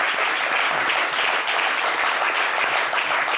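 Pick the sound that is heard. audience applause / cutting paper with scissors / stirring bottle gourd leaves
audience applause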